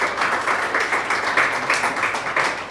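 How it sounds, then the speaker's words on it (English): Audience applause at a live sommelier competition broadcast in South Africa, a steady crowd clapping that holds evenly for a few seconds with soft rhythmic swells and no talking over it. "Please give them a round of applause."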